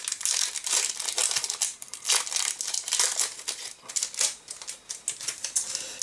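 A foil wrapper on a Pokémon card booster pack crinkles and tears up close as it is unwrapped, a run of sharp, papery rustles in uneven bursts with no talking.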